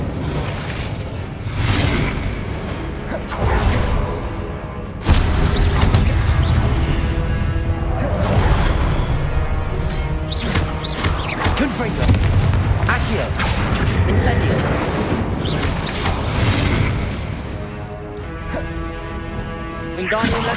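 Hogwarts Legacy spell combat bursts with booming impacts and crashing blasts, including a fiery Incendio cast, in a dense, loud stretch of repeated explosive hits under spoken spell names.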